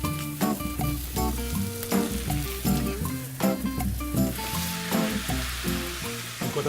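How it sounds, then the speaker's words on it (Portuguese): Meat sizzles and fries steadily in a cast iron pan, a dense continuous crackle with occasional stirring and scraping, close and fairly loud with no talking. "Enquanto a minha carne cozinha"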